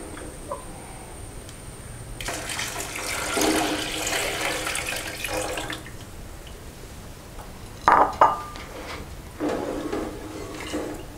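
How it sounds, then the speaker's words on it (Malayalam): Second-pressed coconut milk is poured into a simmering green gram and lentil payasam, giving a steady watery rush with a few sharp clinks of utensils partway through and no speech. "ഇനി നമ്മൾ 2-ാമത് പിഴിഞ്ഞെടുത്ത പാല് ഒഴിക്കാം"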